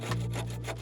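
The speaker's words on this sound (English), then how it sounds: "So here's a video of me sawing it." A thick piece of bamboo being sawn by hand, with rhythmic rasping strokes repeating about every third of a second, close and steady, no voices.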